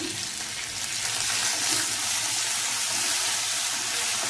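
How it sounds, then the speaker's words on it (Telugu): Curry leaves frying in hot oil in a pan for street-food vada pav, a steady broad sizzle that stays loud and close throughout, with no talk over it. "కరివేపాకు బాగా వేగాలి"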